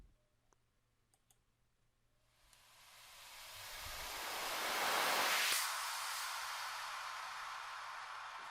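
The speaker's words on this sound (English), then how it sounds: "for our transitions, we actually just used a reverse and then an impact" Reverse and impact transition in an FL Studio Afrobeats beat remake: a reversed noise swell builds gradually for a few seconds to a loud peak, then a broad impact hit sustains and slowly decays.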